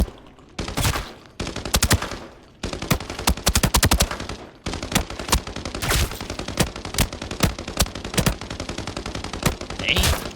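Rapid bursts of SCAR assault rifle fire in the Arena Breakout shooter game, loud and close, with long sustained volleys broken by short gaps and scattered single shots near the end.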